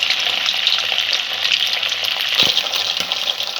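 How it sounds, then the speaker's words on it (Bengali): Chicken pieces fry in a pan for a creamy white-sauce chicken curry, giving a steady, close sizzle with light stirring and a couple of faint utensil knocks. "প্রত্যেকটা সুন্দর করে ভাজতে হবে।"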